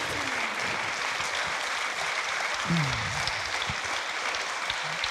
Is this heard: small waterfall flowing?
no